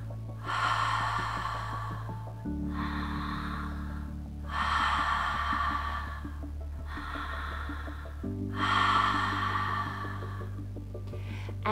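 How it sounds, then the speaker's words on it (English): Deep connected breathing drawn in and out through the mouth, four long loud breaths in a slow even cycle, close to the mic, with soft background music and no talk. "the type of breathing you'll be working with is a deep connected breath,"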